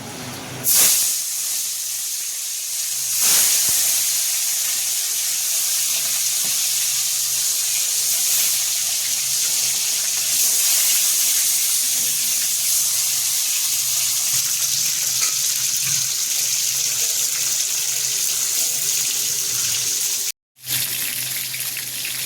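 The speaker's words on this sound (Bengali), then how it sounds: "মাছগুলোতে আগেই হলুদ লবণ মাখাই রাখছি, এখন ভেজে নেব।" Tilapia fish coated in turmeric and salt fry in hot oil, giving a loud, continuous sizzling hiss that carries on steadily for about twenty seconds, with a short break near the end.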